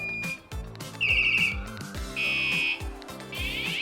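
A series of loud electronic alarm tones from a Juiced HyperScorpion electric bike, shrill beeps and warbling siren bursts, changing pattern several times over a few seconds.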